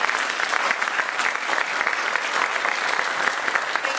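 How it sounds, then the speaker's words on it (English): Audience clapping after a technical conference talk, loud and sustained from many hands in a dense, even wash throughout. "So now you can clap."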